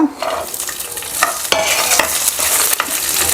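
Ginger, garlic and green chili sizzle and fry loudly in a hot pan, with steady crackling spatter and a few scraping stirs throughout, no talking.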